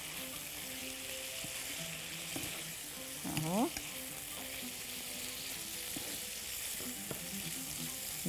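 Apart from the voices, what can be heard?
vegetables sautéing in oil in a pan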